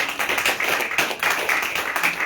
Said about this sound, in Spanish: ¿Por qué no da un aplauso al Señor?